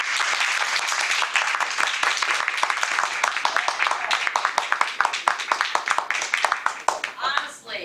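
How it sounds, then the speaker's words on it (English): A Toastmasters meeting audience claps together on a count of three, a dense burst of many hands applauding continuously, fairly close, tapering near the end as a voice begins. "On the count of 3, let's all clap and like notice what you feel."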